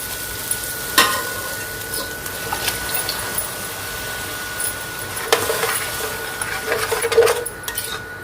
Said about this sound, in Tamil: இதில் நான் ஊற வச்சிருக்கிற இந்த பருப்பெல்லாம் ஆட் பண்ணிக்க போகிறேன்.